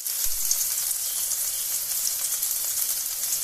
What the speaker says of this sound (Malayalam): നമ്മൾ വഴറ്റാൻ ഇട്ട് കൊടുത്ത ഇഞ്ചി വെളുത്തുള്ളി പച്ചമുളക് കറിവേപ്പില ഇതെല്ലാം ഒന്ന് അഴന്നു വന്നിട്ടുണ്ട്